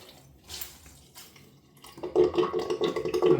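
Water splashing and dripping as a flannel cloth is rinsed out at a sink, a faint trickle at first, then louder close-up sloshing and wringing for the final second and a half.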